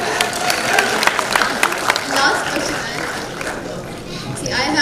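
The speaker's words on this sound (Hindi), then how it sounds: "राहुल रवेल जी जो हैं, इनके लिए एक बार ताली हो जाए" Audience at IFFI 2018 applauds Rahul Rawail, a steady wash of clapping and crowd noise from a large hall that fades slightly toward the end.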